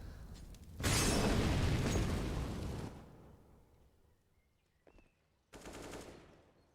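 Counter-Strike match on the Inferno map: a loud burst of grenade explosion and gunfire lasts about two seconds and fades, followed by a brief pop and a second short burst of shots.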